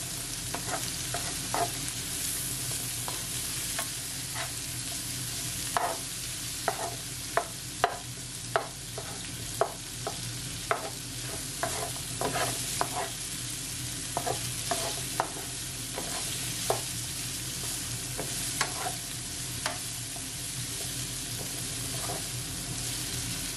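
Seafood chow mein sautéing in a pan: a constant hiss of frying punctuated by irregular scrapes and clacks of a utensil stirring against the pan, close and moderately loud, with no talking.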